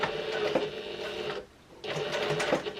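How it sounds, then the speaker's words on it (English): Close by, a home sewing machine topstitches a small clutch wallet with a steady mechanical whir, stops briefly, then resumes for another even run. "So I'm just top stitching along at around about 1/8 of an inch seam allowance."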